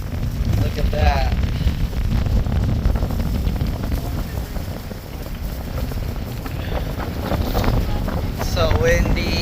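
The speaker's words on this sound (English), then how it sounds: "It's so windy." Strong wind buffets the microphone on a coastal cliff along Big Sur, a loud, continuous roaring rumble, with faint voices heard under it.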